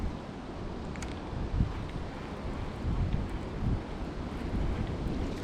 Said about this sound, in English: Man, this wind is crazy.